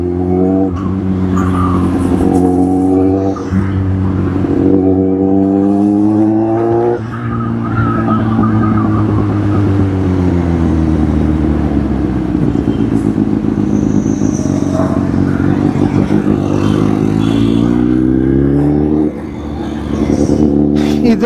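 A car drives with a loud, steady engine drone that rises and falls in pitch as it moves, with brief tire noise and no pauses across the stretch.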